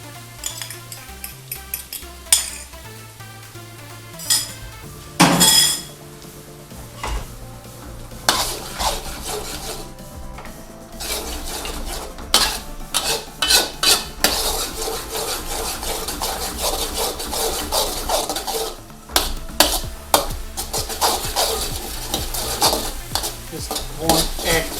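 Egg stirred and broken into small pieces in a pot with cooked onion and garlic, repeated close scraping and rubbing of a utensil against the metal over a low sizzle, in uneven bursts.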